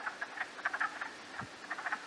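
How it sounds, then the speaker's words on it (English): Frogs in an Adirondack pond, with ice still on the water during mating season, croak in quick irregular chirping bursts, fairly close and steady, with no voices. "Well, these frogs are freaking out."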